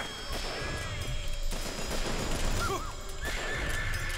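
Gunfire from the video game BioShock Infinite crackles in steady bursts under a busy game soundscape, with a horse whinnying partway through and other game noises layered on top.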